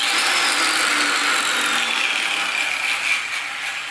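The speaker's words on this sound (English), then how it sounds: "I got a cutting blade on there for cutting steel" An angle grinder fitted with a cutting blade slices through steel stock, a loud, steady high-pitched whine and screech held close up for the full length, easing slightly near the end.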